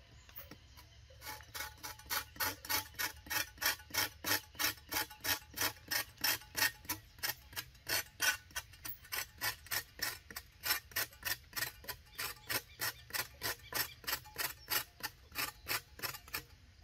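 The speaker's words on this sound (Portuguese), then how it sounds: "Vou raspar aqui a casca maior, a mais grossa." Thick, coarse bark scraped off a juazeiro tree trunk beside a road, a steady run of rasping strokes at a quick even rhythm, close and clear, with no talking.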